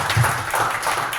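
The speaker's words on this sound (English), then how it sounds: "let's give a round of applause." Applause from a crowd at a tech event, a brief burst of many hands clapping together, close and fairly loud.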